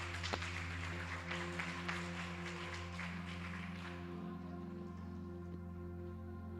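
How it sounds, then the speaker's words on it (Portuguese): Steady applause from a church congregation fills the space, a dense patter of many hands clapping over a low hum, gradually thinning out. "as palmas glorificam e exaltam o Senhor"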